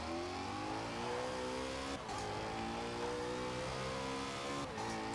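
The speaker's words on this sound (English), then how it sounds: "It's fast, still very, very fast. It accelerates very quickly." An all-wheel-drive car in the racing game Forza Horizon 4 accelerating hard, its engine note climbing steadily through the gears with two short shift breaks, loud and sustained.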